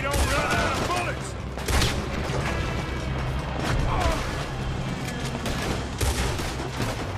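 Rapid gunfire in the video game Red Dead Redemption 2 during a stealth mission, repeated loud cracking shots in bursts over a dense, busy mix.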